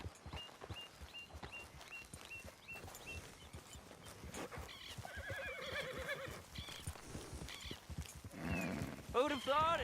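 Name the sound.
horse neighing and hooves from video game Red Dead Redemption II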